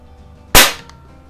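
A single sharp shot from a Crosman Pellmaster 700 .22 CO2 pellet rifle, with a loud, close crack and a quick decaying hiss, standing alone against quiet.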